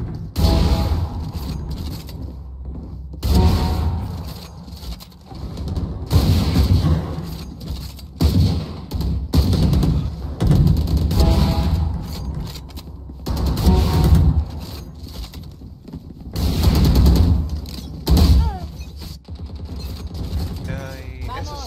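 Rapid gunfire bursts from Operator weapon training in a shooting video game, sharp shots and mechanical clicks repeating in clusters with brief gaps, with talk in between.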